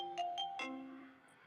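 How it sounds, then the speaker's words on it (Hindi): An iPhone 6 ringtone playing from a phone: a short, clean run of bright marimba-like notes rising and falling in quick succession, fairly quiet and alone. "आईफोन 6 रिंगटोन दोस्तों।"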